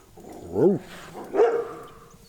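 Two barks from a dog on a ranch at moderate distance on a rainy day, a short pause between them, with quiet background otherwise.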